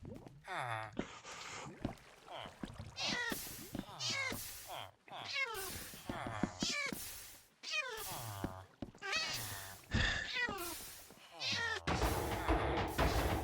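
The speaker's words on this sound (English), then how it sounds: "Spawning cats." Cats meowing repeatedly in the Minecraft video game, several short mews spread across the stretch amid a village, with a person talking over them between calls.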